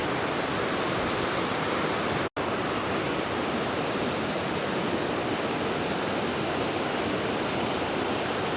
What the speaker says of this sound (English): you do get very wet here from the spray off the waterfall